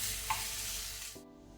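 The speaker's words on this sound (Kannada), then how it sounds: "ಈಗ ಮೀಡಿಯಂ ಫ್ಲೇಮಲ್ಲಿ ಈರುಳ್ಳಿಯನ್ನು ಒಳ್ಳೆ ರೀತಿ ಫ್ರೈ ಮಾಡುವ" Onions sizzle steadily in a pan over a medium flame while cooking for chana masala, a close, bright hiss with a faint stirring scrape, cutting off near the end.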